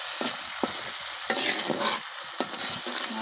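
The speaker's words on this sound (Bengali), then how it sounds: "মশলাটা কষানো হয়ে গেছে, আমি এবার মাছ দিয়ে দিচ্ছি" Spice paste frying in a pan while a spoon stirs it, giving repeated scraping strokes over a steady sizzle, close and with no talk.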